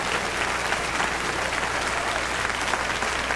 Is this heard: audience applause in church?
yes